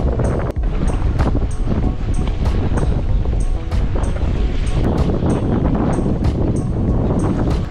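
Strong wind buffeting the microphone on a paddleboard on the open Baltic Sea, a constant roaring rush with repeated gusty thumps and splashing waves.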